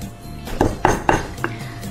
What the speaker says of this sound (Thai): มาโขลกพริกแกงให้มันเข้าเนื้อกันซะก่อนนะคะ